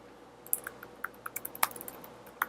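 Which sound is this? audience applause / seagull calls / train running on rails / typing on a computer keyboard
typing on a computer keyboard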